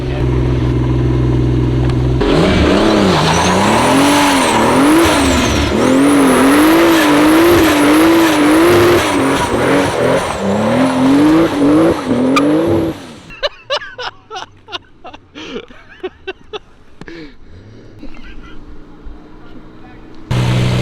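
A Toyota 2JZ-engined car on old, dry-rotted radial tires launches in wet conditions, its engine screaming loudly through rising and wavering revs with tire spin for about eleven seconds, then backing off into quieter bursts and pops.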